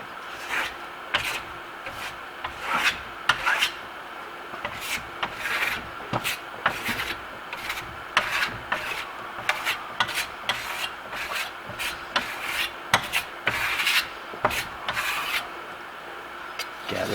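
A steel trowel scrapes and burnishes a tight layer of Blueberry Hill venetian plaster on a bathroom sample wall, giving repeated close rasping strokes in an uneven rhythm with no talking.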